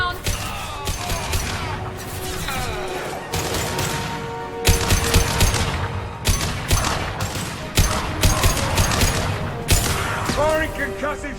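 Gunfire and a concussive shot in the video game Mass Effect 2, dense bursts of rapid shots and sharp impacts crackling almost continuously with loud booms, layered over game music and combat voices.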